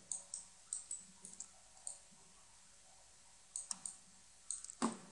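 A computer mouse clicks while a mosque model is built in 3D design software: sharp, close clicks come singly and in quick pairs, separated by quiet gaps, with no voices.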